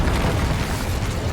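Dense, rumbling blast from the Bombarda spell in Hogwarts Legacy, a short loud burst of low booming noise with no voices over it.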